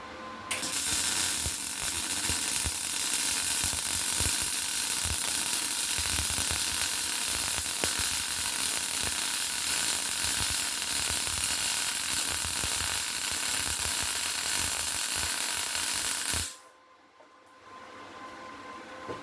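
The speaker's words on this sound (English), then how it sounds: "when you're doing the MIG welding process, it's going to be flat, horizontal, or vertical down" MIG welding bead laid flat with a small weave, a steady loud crackling sizzle running continuously for about sixteen seconds before cutting off abruptly, leaving quiet background.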